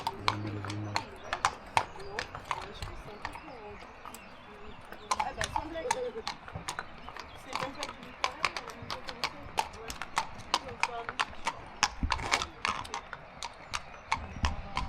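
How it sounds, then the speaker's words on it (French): A horse's shod hooves clip-clop on concrete, including a slip, on the coastal GR34 trail near Plouézec heading toward a beach; steady, fairly close hoof strikes repeat throughout with faint background noise and a few voices. "Oh, le cheval il a glissé. Ils aiment pas trop le béton, je pense."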